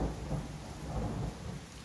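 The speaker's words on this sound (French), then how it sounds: "Ça pleut bien." Heavy rain pours in a dense, steady roar, with deep rumbling thunder blended underneath throughout and nobody speaking.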